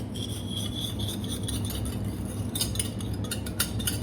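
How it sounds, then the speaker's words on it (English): A whisk scrapes and clinks against a bowl while beating egg yolks with sugar, a soft steady rubbing with brighter metallic taps toward the end, close and quiet, with no talking. "3 egg yolks into the bowl, and then to that we're going to add the sugar, and we're going to gently whisk this"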